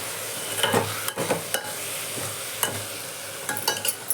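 Siru keerai greens frying in hot oil with onion, a steady sizzle broken by several soft stirring scrapes and clicks, close and alone without any talk.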